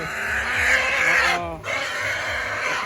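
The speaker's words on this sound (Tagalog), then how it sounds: "So, ito ay baboy ni Jen Mary" A pig at a Philippine backyard pen lets out a rough, close grunting roar, with a brief dip partway through, while a person talks nearby.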